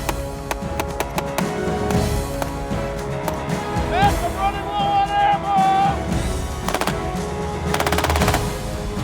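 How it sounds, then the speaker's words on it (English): Automatic gunfire hits a military convoy in sharp, rapid bursts of shots scattered across the scene, along with crowd noise and a brief rising tonal sound in the middle. "The convoy is taking fire from the enemy."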